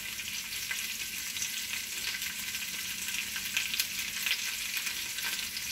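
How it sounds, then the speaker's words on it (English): Steady, crackling sizzle of yellow squash and zucchini frying in a hot pan, continuous and fairly close, with no talking. "can y'all hear that sizzling?"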